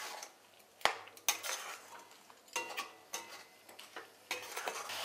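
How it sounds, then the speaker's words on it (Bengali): Grated coconut and jaggery being stirred in a kadai over medium flame, a metal spoon scraping and clinking against the pan in irregular, close taps and scrapes. "গুড়ের সাথে নারকেলটা খুব ভালো করে মিশিয়ে একটা পাক তৈরি করে নিচ্ছি"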